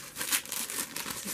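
Taped packaging around a spell candle is torn and crinkled open, a brief close, crisp rustle of ripping paper and plastic with no speech.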